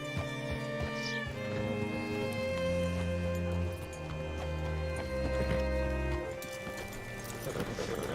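Horse hooves clip-clop at a steady walking pace beneath a droning musical score in the video game Red Dead Redemption II, fairly quiet and even throughout.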